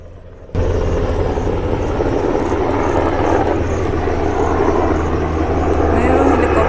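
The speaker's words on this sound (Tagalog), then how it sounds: "may dumaan na helicopter" A helicopter passing overhead, a loud continuous rumbling drone that swells in abruptly and holds steady, with voices partly beneath it.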